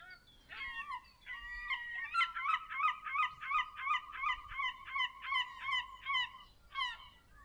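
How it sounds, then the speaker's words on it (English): A seagull calling from a shed roof at the end of a garden, loud and close, with a few opening cries followed by a long rhythmic run of repeated laughing calls, alone against a quiet background. "you can't forget the seagull on the roof of the shed at the end of the garden."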